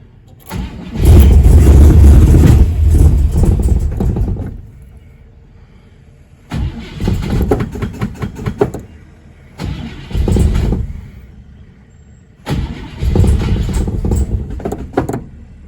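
A 1957 car with an upgraded carburettor cranks and fires in three separate loud, close bursts, the engine catching and running roughly before cutting out each time.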